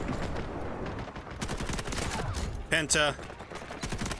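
Automatic weapon fire in the Delta Force video game, sustained rattling bursts with a louder spike near the middle and a voice speaking briefly over it.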